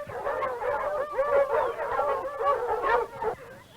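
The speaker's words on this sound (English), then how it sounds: "Get these hound dogs out of here" Hound dogs bark, yip and howl repeatedly in an excited, overlapping chorus, nearby and fairly loud in an old 1938 western film scene.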